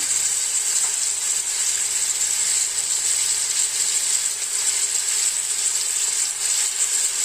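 Chicken sizzling in a pan with salt for a chicken do pyaza, a steady hiss of frying running unbroken and fairly loud throughout, with faint crackles.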